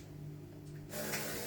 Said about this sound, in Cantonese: 我就又噴我嘅護膚水啦